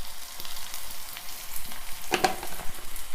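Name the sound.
onions frying in a pan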